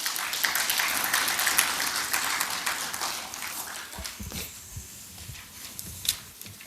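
Plenary session audience breaking into louder applause: a steady, dense wash of clapping that holds for several seconds, then fades into a few sparse claps and low room noise.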